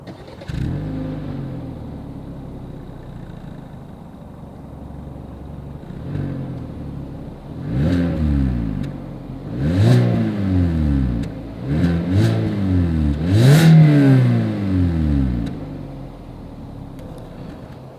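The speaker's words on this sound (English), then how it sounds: "As always, here is that exhaust clip." A 2021 Hyundai Accent's exhaust idles, then rises through a series of revs that climb and fall back, each pull louder and longer, heard alone and close.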